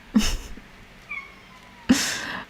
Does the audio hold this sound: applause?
no